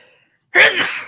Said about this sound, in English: I think I'm having a sneeze attack now.